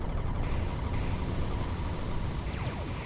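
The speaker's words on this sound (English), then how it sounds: "I'm not quite sure what this white noise is." Steady hiss of white-noise static aboard a spaceship in Space Engineers, a broad, even wash at constant level with faint whistling sweeps near the end, no talk.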